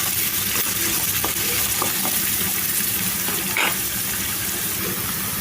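Thinly sliced onion pieces fry in oil in a pan, a loud, even hiss of sizzling close by with a few faint stirring clicks and no talk.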